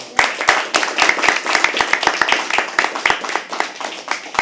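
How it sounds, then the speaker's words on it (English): An audience at a live poetry open mic claps steadily, a close, dense run of handclaps with distinct individual slaps and a few voices underneath. "But for other people, please do clap."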